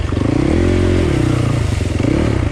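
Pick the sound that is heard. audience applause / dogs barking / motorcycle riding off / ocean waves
motorcycle riding off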